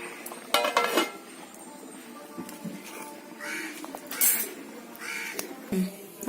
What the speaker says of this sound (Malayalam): തിളച്ച് വരുന്നുണ്ടെന്ന് മെല്ലെ ഇളക്കി കൊടുക്കാം